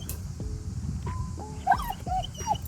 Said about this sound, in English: there's a squirrel taunting the dogs